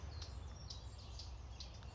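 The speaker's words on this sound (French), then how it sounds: "Attends, on entend les oiseaux." Faint bird chirps repeat about every half second over a low outdoor rumble in a marshy garden with bamboo, small distant calls with no talk.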